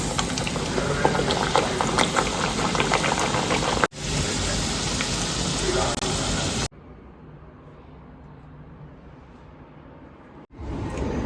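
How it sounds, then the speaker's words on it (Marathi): Pumpkin gharge, dough balls topped with sesame seeds, deep-fry in hot oil with a loud, dense bubbling crackle, interrupted by abrupt cuts and a quieter, softer stretch of frying near the end. "आता आपण तळून घेऊयात"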